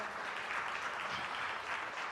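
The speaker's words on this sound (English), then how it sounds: "another round of applause for this panel" Audience applause for a symposium panel on building a Black history education curriculum, a steady, fairly soft wash of clapping from many hands that continues evenly without talk.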